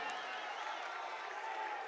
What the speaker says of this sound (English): Let's give him a round of applause for a good game